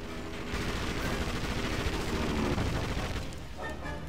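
Sustained gunfire in the video game Indiana Jones and the Emperor's Tomb, dense continuous bursts of shots with rumbling booms, fairly steady and moderately loud with no talk.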